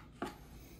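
A single knife stroke through an onion on a cutting board, a short crisp chop, faint and close, with nothing else around it.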